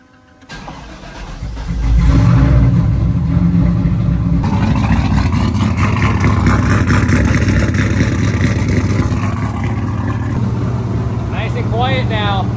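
A turbocharged 6-liter OBS truck engine cranks and fires, then settles into a loud, steady running rumble up close, with a person talking over it.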